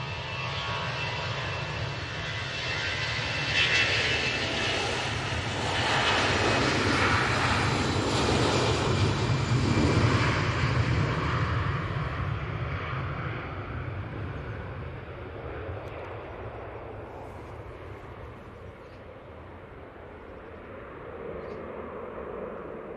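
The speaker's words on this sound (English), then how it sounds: "Oh, I only kind of know when they spool up, as you can tell from the different engine tones." Jet2 Airbus A321-200 engines at Manchester Airport, a loud sustained roar that swells and then slowly fades as the aircraft spools up and moves off, with no talk.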